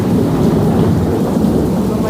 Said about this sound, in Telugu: చాలా ఉరుముల మెరుపులతో కూడిన వర్షం పడుతుంది